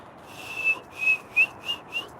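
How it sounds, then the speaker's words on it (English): A person whistles five short, clear rising notes in a loose, uneven rhythm, close and fairly loud against a quiet room, no talking. "Can you whistle?"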